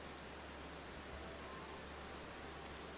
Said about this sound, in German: Es regnet, es stürmt.